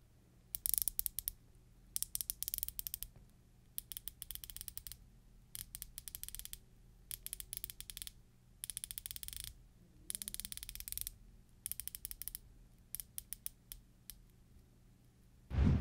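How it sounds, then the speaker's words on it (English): Crisp ratcheting clicks from a rotating bezel on a vintage-inspired TYPSIM diver watch, coming in short bursts of rapid detents separated by pauses, close-up and fairly quiet, with no talking. "the bezel action is very clean and has a satisfying sound"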